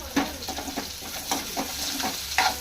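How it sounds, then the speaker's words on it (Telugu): Onions and curry leaves frying in oil over a high flame, a continuous close sizzle broken by repeated scraping stirs roughly every half second, no one speaking. "హై ఫ్లేమ్లో పెట్టుకుందాం. ఉల్లిపాయలు బాగా ఫ్రై అవ్వాలి కదా."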